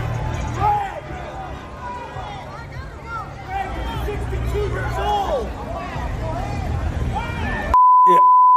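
Crowd chatter and background voices run throughout, then a sharp steady censor beep cuts in loudly near the end.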